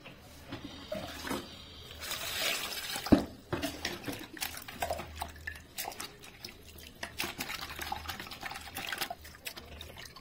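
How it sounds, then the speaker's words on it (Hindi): Water washing a plant pot or roots by hand, with irregular splashes, drips and trickling, plus occasional clunks of the container, moderately close and fairly quiet. "इसको मैं पानी से धो के लाऊँ पहले, फिर डालूंगी।"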